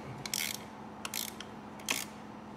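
A 10mm ratcheting socket wrench tightens the battery terminal on a 2000-2008 Ford Focus, giving three short bursts of quick metallic clicking, close and fairly faint, with no talk.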